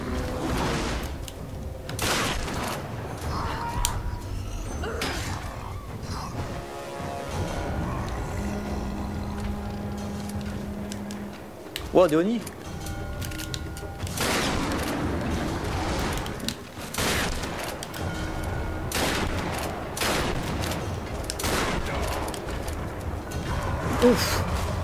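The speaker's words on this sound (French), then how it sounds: "on va y mettre un petit coup de fusil à pompe à chaque fois" Pump-action shotgun fired repeatedly in Tomb Raider: several sharp, loud blasts spread through the stretch amid combat noise, with someone talking over much of it.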